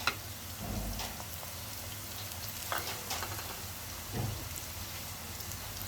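Onions sizzle and crackle steadily in hot oil in a wok, with occasional stirring scrapes, close up and without any talking.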